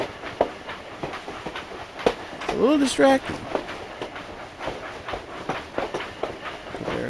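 A train riding on rails in the Minecraft video game makes a repeated clickety-clack rhythm of soft clicks and rumbling. A person talks briefly partway through.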